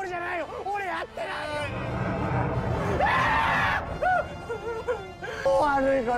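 A man screams in fear in a film scene, rising and wavering cries repeated over several seconds amid background crowd noise and other voices.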